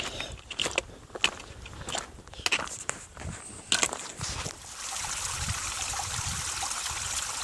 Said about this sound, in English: You can see the water coming right out of the mountain this spring.